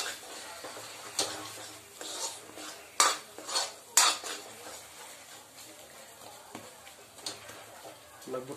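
Carrot halwa is fried and stirred in a pan until light brown, with scattered clanks and scrapes of a spoon against metal, some sharp knocks, and faint background talk.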